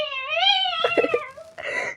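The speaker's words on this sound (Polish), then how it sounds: "Słyszeliście widzowie ten kotek, co wtedy?" Cat meowing near a house, one long drawn-out wail followed by shorter broken cries, close and clear against quiet surroundings.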